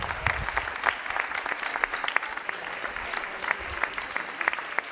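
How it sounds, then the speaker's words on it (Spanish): Applause from the audience at a municipal music school's end-of-year concert, a lively, fairly close patter of many hands with sharp individual claps standing out, sustained evenly throughout without speech. "Per tant, un bon aplaudiment a en Escavellà."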